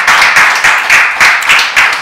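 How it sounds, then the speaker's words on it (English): A church congregation claps in a loose, steady rhythm, about seven or eight loud claps close by, like a group clapping along together. "Clap your hands. Clap your hands."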